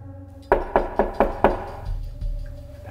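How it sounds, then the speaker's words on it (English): Five sharp, evenly spaced knocks on a basement door in a haunted mansion video game, loud and close, followed by a low rumbling resonance as the knocking stops. "Should I knock?"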